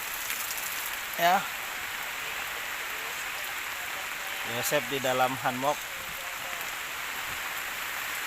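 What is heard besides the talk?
rain falling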